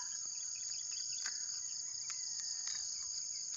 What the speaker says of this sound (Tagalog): panginin nyo, huni ng kuliglig, ibon,